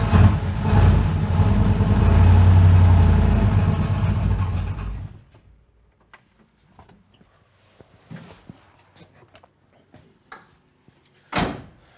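A 1965 Chevrolet Impala, sitting unused for ten years, cranks loudly for about five seconds after its carburetor is primed, then falls quiet apart from scattered clicks and a sharp knock near the end.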